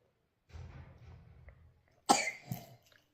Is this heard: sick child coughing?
yes